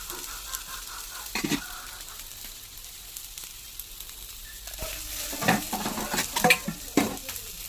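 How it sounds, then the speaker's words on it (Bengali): Eggplant being turned and fried in oil in a pan, a steady low sizzle broken by several scraping stirs and spatula clinks that grow busier toward the end. "আর এইভাবে উল্টে পাল্টে ভেজে নিতে হবে।"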